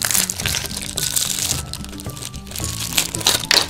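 A small plastic LPS toy package is torn open, loud close crinkling and crackling of plastic wrap that runs steadily throughout, with sharp crunches mixed in.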